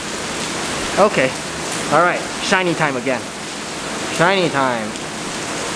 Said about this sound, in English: Like, it's raining.